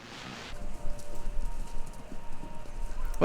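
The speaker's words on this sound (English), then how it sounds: "Sounds like horses? Horses running?" Horses running, heard over a radio station in the video game Kentucky Route Zero, come through as a steady, muffled drumming of hooves beneath static-like noise.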